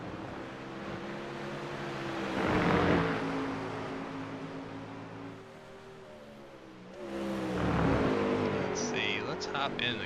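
A Mustang GT3 race car in a racing video game revs and accelerates twice, its engine tone rising and swelling before easing back, under a person talking over it.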